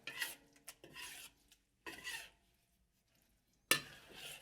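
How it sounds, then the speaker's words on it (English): Turnip cake batter being stirred and scraped around a hot wok on residual heat, giving a few separate raspy rubbing strokes with short pauses between them, close and fairly quiet with no talk. "we've got residual heat from the wok, and we're going to mix everything"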